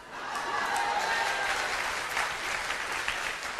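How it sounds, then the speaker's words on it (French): Steady applause from a large crowd during a sermon, dense and sustained throughout, fairly loud with no clear voices on top. "les applaudissements se font un peu moins retentissants"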